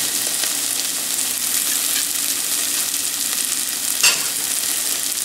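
Onions and garlic sautéing in a pan for snapper curry, a loud, close, continuous sizzle with a brief stir clatter near the end.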